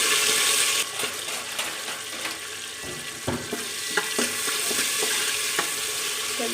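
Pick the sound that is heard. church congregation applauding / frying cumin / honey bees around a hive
frying cumin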